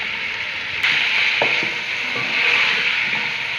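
Chicken fries in garlic ginger paste, a loud steady sizzle with a few scraping stirs and light knocks against the pan, close and unaccompanied by talk.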